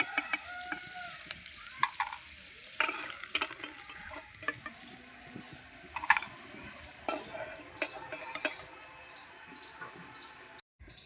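Strips of chicken fry in oil in a home kitchen, a soft, steady sizzle with scattered clicks and scrapes of stirring, fairly faint and close.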